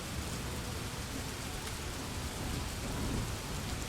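Steady rain and a thunderstorm in the video game Morroblivion, a continuous wash of rainfall with low rumbling thunder underneath, even and unbroken throughout with no voices.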